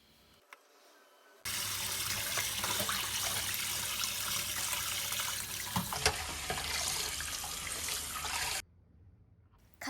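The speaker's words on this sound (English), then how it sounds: "Rinse with water." Running tap water pours strongly over boiled taro potatoes being rinsed, a continuous splashing rush lasting about seven seconds that then cuts off to near quiet.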